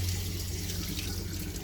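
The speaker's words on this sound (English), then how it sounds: "So, drain the water heater. I'm going to open up the pressure relief." Water drains steadily through the opened pressure relief valve of the water heater on a 28-foot Bayliner Ciera sitting on a trailer, a continuous close hissing gush with no break.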